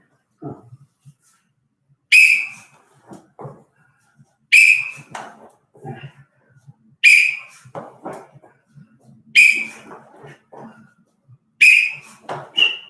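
Five sharp whistle blasts spaced a couple of seconds apart, each loud and piercing, with faint splashing and movement sounds in the gaps between.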